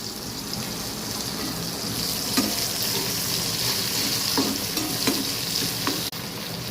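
Crab fat drops into hot oil in a home kitchen for a crab curry, raising a loud, dense, continuous sizzle close by, with a few scraping stirs of a utensil breaking through.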